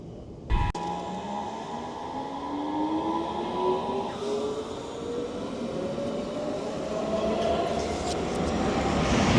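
A train passes close by with a rising hum and clatter that swells steadily toward the end, after a sharp bang at the start.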